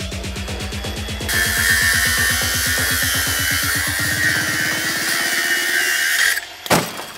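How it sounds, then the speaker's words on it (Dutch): A battery-powered angle grinder cuts into a steel drawbar lock. The motor revs up, then a loud, sustained high-pitched metal-cutting screech runs for about five seconds before the blade stops and a clunk follows. "Eerst old fashioned met de hamer en daarna supermodern met de flex op accu."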